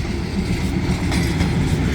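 A special excursion train rumbles past close by near Bang Sue, Bangkok, a steady heavy roar with rhythmic wheel clatter throughout.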